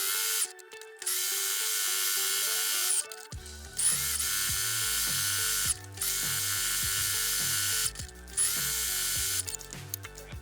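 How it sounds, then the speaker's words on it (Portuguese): A sewing machine stitches fabric around a desk organizer in loud whirring runs, stopping briefly three times between bursts of stitching, close by with a faint mechanical clicking. "Então vamos lá, vamos costurar. Costura com um pé de máquina."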